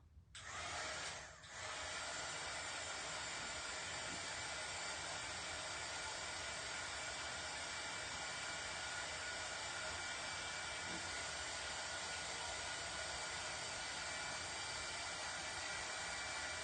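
Hair dryer blowing air to dry a Halloween tiered tray craft, starting with a brief sputter and then running as a steady, unbroken whoosh throughout.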